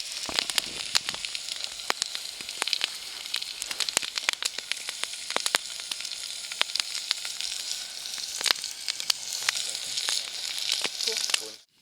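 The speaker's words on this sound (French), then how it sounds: "Et là on a nos saucisses, enfin notre première tournée de saucisses qui sont en train de cuire" Sausages sizzle and fry over a campfire at a mountain bivouac, a steady bright hiss broken by frequent sharp pops and crackles throughout, close and fairly loud with no talking.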